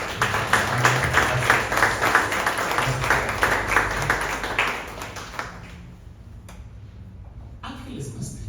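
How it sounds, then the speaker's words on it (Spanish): Applause from the audience at a literary talk with Ángeles Mastretta, steady clapping filling the room for about five seconds before fading away to near silence. "Quiero darles un aplauso, porque de verdad."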